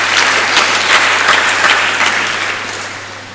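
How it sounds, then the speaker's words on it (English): A hall audience at a national youth dialogue on reforms in The Gambia breaks into dense, loud applause that holds steady and then gradually tapers off over a few seconds. "let's give her another big round of applause."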